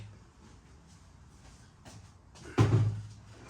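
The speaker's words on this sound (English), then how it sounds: "Slide it back into position, 2 arms down, shut your doors" A beer keg being slid into position in a Philips Perfect Draft home draught machine, with faint handling clicks, then a sharp plastic thunk as its doors are shut, followed by a brief rattling decay.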